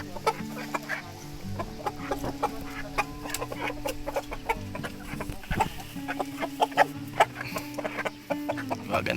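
Chickens clucking in a farm breeding pen with native chickens and Rhode Island Reds, a run of close, repeated clucks and short calls over a quiet rural background, with no talk.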